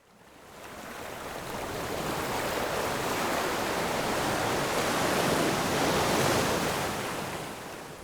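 Sea waves form a broad, continuous roar of surf that swells in gradually and holds steady at moderate level, with no voices.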